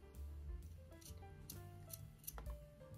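Scissors snipping a small triangle off quilting fabric, a few crisp sharp cuts in quick succession, close and clear with no talk.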